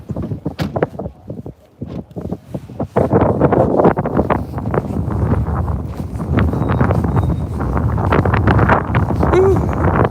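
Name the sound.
breezy wind outdoors blowing on microphone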